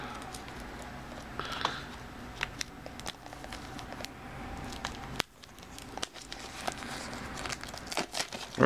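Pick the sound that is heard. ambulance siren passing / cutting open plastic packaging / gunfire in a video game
cutting open plastic packaging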